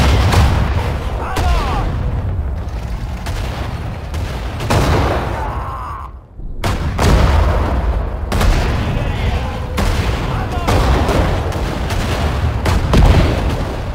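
Artillery fire in the Sudden Strike 4 strategy game during a Soviet Battle of Moscow mission, with repeated booming shots and battle noise across the whole stretch, a brief lull in the middle, and voiced unit acknowledgements now and then.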